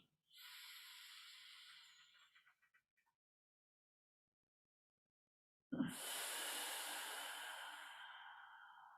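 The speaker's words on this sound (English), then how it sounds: "Breathing evenly into both lungs and out of both lungs." Ujjayi pranayama breathing through the nose during a morning yoga session: a steady hissing inhale for about two seconds tapering off, a pause of silence, then a louder, closer forceful exhale with a sharp onset.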